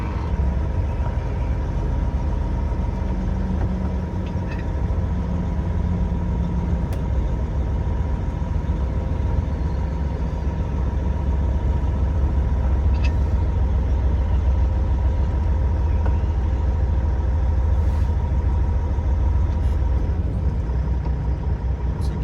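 A heavy semi truck engine idles and rumbles steadily for a long stretch while backing up, with occasional faint clicks and hisses over the low drone.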